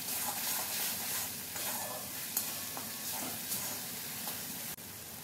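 Spice paste frying in a pan with splashes of a little water, a steady close sizzle and hiss running throughout with soft stirring scrapes, while a Bengali ridge gourd dish is cooked.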